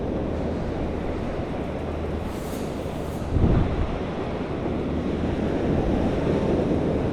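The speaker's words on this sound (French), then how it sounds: "Il y a juste le bruit de la mer," Sea waves surge and wash continuously along a shore lined with huge abandoned buildings and hotels in a deserted ghost town, a broad steady roar with a slight swell midway, mixed with wind buffeting the microphone and no talking.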